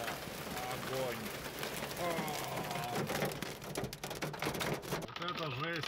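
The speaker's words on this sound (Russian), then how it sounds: "А вот и град подоспел, ё-моё." Large hailstones pelting down hard during a summer storm, a dense, continuous loud clatter like rapid tapping, with someone talking excitedly over it throughout.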